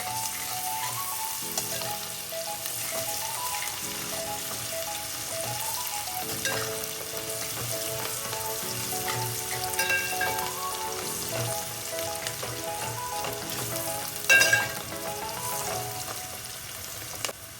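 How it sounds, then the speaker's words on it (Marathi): Onion sizzles in hot oil with asafoetida, a continuous close frying hiss that runs unbroken throughout, with occasional stirring scrapes and one brief louder clatter near the end, no voices. "हलकं हलकं गुलाबी कलरवरती कांदा थोडासा परतून द्यायचा आहे"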